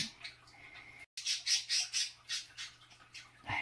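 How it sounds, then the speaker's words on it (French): Pet birds kept indoors squawk in a rapid series of loud, shrill calls, about a dozen bursts repeating close by with short pauses between them. "Mes oiseaux sont criants."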